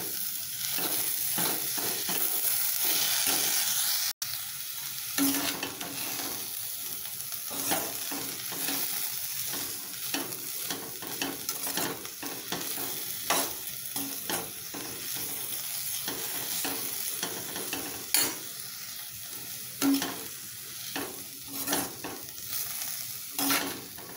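Boiled cluster beans being sautéed with ground lentils in a pan for paruppu usili, a steady sizzle broken by repeated scraping stirs of a spoon against the pan, close by and without speech.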